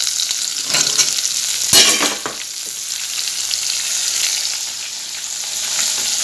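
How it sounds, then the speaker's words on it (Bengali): Dried chili, bay leaf and onion frying in hot oil, a steady bright sizzle with a couple of sharp stirring scrapes and spatters near the start, close and alone. "এগুলো অল্প ভাজা ভাজা করে নেব।"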